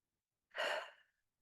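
One deep breath is drawn and released during a tapping exercise as a single airy, breathy exhale lasting about half a second in quiet surroundings.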